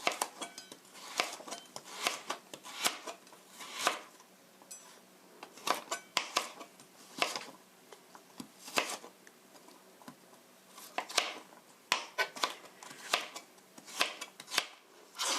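Carrots being julienned with a knife on a cutting board: quick, light tapping strokes in bursts of several rapid cuts separated by short pauses, close and fairly quiet.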